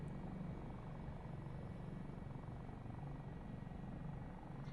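A Dauphin helicopter in a flight simulator game holds a steady, quiet rotor-and-turbine drone throughout, even and unbroken, with no speech.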